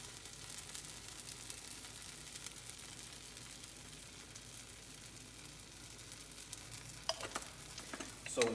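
Food fries in a pan while sourdough bread is being made, a continuous close sizzle and crackle with a few sharper stirring clatters near the end and no talking.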